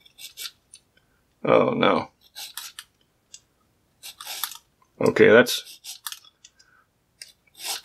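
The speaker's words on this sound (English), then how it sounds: "The file just digs right into it." Metal file rasping against the unhardened shackle of a Gorilla padlock, two strong scraping strokes close up between sparse clicks, with brief talk in between.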